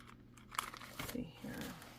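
Plastic packaging around a set of cash envelopes crinkles and tears open in short bursts, close to the mic, with brief rustles between pulls.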